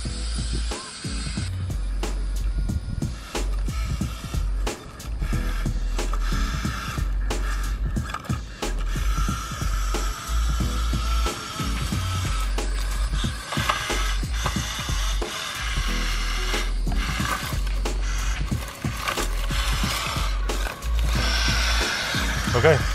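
A WPL C14 RC crawler truck drives at full throttle on asphalt, its small motor and gears whining and ratcheting continuously, with wheels grinding on the rough surface and brief dips as it slows.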